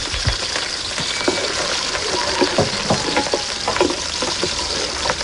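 Chopped onion sizzles steadily in hot oil in a Huasteca Potosina kitchen, a dense, even frying hiss with scattered soft clicks and stirring knocks throughout, close and fairly loud with no talk.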